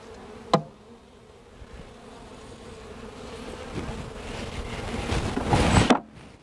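Honey bees buzzing around an opened hive, a dense droning hum with bees passing close to the microphone, a sharp knock near the start and the buzz swelling louder toward the end before cutting off.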